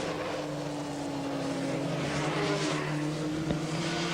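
A Formula Ford race car at Amaroo Park in 1980 corners at speed, its engine note a steady, loud drone with shifting pitch throughout, plus a brief sharp knock near the end.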